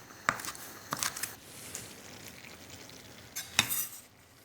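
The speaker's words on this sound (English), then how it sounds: "I'm gonna turn this off and just stir in the shrimp." Chopped shrimp stirred in a pan with the heat turned off, faint background sizzle broken by a few sharp spoon scrapes and clinks against the pan.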